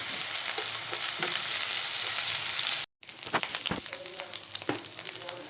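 Garlic and curry leaves fry in hot oil for a tadka, a bright continuous sizzle with occasional stirring clinks, briefly cut off midway before the crackling resumes.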